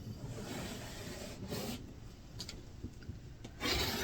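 Quilt block fabric for a wave block is trimmed with a cutter along a ruler, a soft continuous rasping rub up close and quiet, with a few faint clicks and a slightly louder swipe near the end, without any talking.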